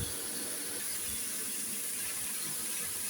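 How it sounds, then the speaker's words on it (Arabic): Boiling water poured from a kettle onto meat: a steady rushing pour with a hiss, continuous and close for a few seconds. "معايا مية مغلية في الكتل بفضها على اللحمة"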